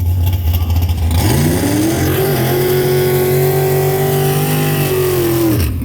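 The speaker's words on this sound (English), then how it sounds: "Now this is a race car" A Mopar drag race car, a Lonnie Smith entry making a test hit at a drag strip, idles roughly, then revs and accelerates hard with a loud, rising engine roar that holds steady for several seconds before cutting off abruptly.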